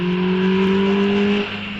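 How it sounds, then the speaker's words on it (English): A modified 1993 Nissan Micra 1300cc hillclimb car at Wiscombe Park, its engine holding a steady, loud buzzing drone before easing off near the end, heard alone without talk. "At the wheel of his 1993 Nissan Micra 1300cc car, which benefits from updated suspension, modified engine and gearbox."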